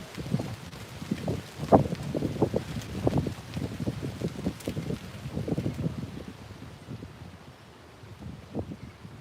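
Gusty wind buffets a microphone outdoors on a bright day, rising in uneven rumbling bursts through the first half, then easing to a softer, steadier rush.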